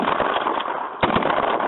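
Shotgun blasts at skeet clay targets on an outdoor range: a broadband burst of noise, then a sharp loud report about a second in, followed by a second crack and more noisy rumble.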